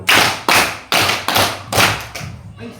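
A classroom of students claps in unison, a strong loud beat about every half second for six strokes, the last one weaker and ragged, with no voices over it.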